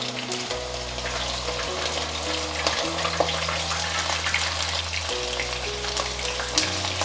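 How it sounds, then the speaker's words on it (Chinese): Eggplant pieces frying in a generous layer of hot oil in a pan, a steady close sizzle and crackle running throughout with a faint low hum beneath and no talking. "锅内倒入足够的油，油热了，把茄子放进来煎。"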